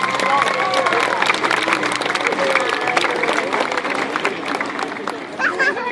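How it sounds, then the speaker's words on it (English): An audience applauds at a tiger and panther show, a dense spread of clapping with crowd murmur and voices mixed in, steady and fairly loud for several seconds before thinning slightly near the end. "let's give another round of applause for Maki"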